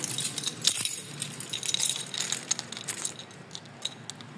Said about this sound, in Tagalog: Dalhin ko na lang yung susi ko.